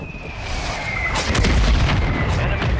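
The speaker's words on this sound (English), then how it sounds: "Mortar strike inbound." Mortar strike explosions in Call of Duty Warzone, a close, heavy rumbling boom building and sustaining with crackling debris over a low roar.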